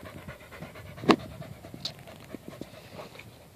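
A dehydrated dog pants lost off-trail in the dry desert scrub, a soft, quick breathy rhythm close by with one sharper sniff or snort standing out.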